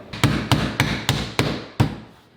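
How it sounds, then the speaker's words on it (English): Six sharp, evenly spaced hammer blows tap metal drywall corner bead down into place, each a close, ringing knock fading quickly, with no talking. "We will hammer this down."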